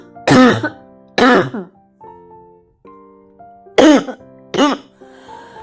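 Four hoarse, throaty coughs come close and loud in two pairs, with a quiet pause between them and faint clinking in the gaps.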